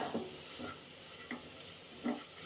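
Rice for Hyderabadi-style khuska cooking in a pressure cooker pot is stirred with turmeric and red chili powder, giving a soft sizzle under scattered scraping strokes of a spoon, faint and close, without speech.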